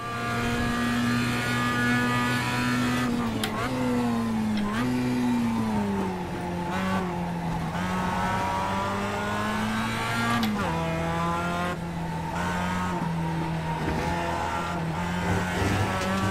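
Mazda MX-5 race car in iRacing at Okayama, its engine droning steadily at high revs, the pitch dipping and climbing through gear changes and corners, close and continuous.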